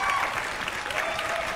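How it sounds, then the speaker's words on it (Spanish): Audience applause for a contestant at a Jotalent talent show, a steady, dense wash of many hands clapping throughout, fairly loud and continuous without a break. "¡un aplauso para Marc!"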